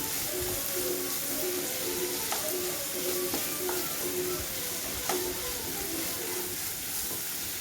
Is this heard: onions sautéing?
yes